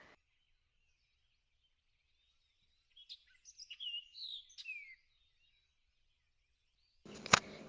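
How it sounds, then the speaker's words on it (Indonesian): A tagur dahan bird gives a short run of clear, whistled chirping calls in otherwise quiet surroundings, followed by a brief louder noise at the very end. "Burung tagur dahan hidup di Malaysia."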